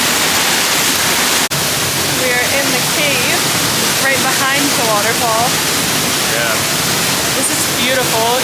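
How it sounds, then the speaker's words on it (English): The waterfall at Rifle Falls State Park in Colorado gives a loud, unbroken broadband roar up close, with small chirping calls dotted faintly through it. "Right behind the waterfall."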